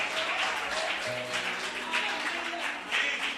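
A church congregation bursting into applause and cheering: dense, steady clapping from a crowd, filling the space evenly, with raised voices and shouts mixed in.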